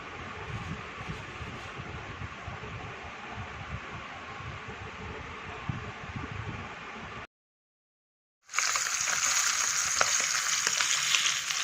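Two bata fish fry in a pan in a home kitchen, giving a steady, loud oily sizzle that cuts out briefly and then returns brighter and hissier.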